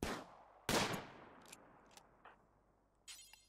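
Gunfire in the Rimworld video game: a sharp close shot opens, another loud crack follows, then a few fainter scattered pops and a burst near the end, set against near silence.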